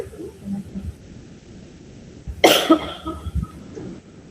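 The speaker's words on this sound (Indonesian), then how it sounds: "agak batuk" A single sharp cough bursts out midway, loud and close, with quiet room noise before and a little rustling after.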